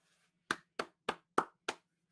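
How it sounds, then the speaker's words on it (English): Five crisp hand claps, evenly spaced and close to the microphone, in otherwise near silence. "I'm clapping for everybody."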